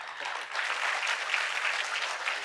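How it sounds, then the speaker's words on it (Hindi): Loud, dense audience applause at a large political conference in India, a sustained wash of clapping from a big crowd. "इस बात पर जोर से तालियां होनी चाहिए।"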